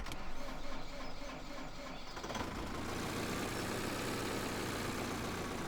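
An engine starts up in Farming Simulator 2013: quiet game ambience gives way after about two seconds to a steady, loud broadband engine rumble that keeps running to the end.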